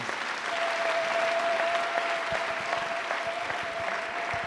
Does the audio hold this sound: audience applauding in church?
yes